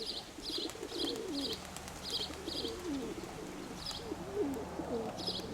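Racing pigeons cooing at a loft, low repeated coos rising and falling over several seconds, with bursts of higher chirping bird calls scattered through a steady background hum.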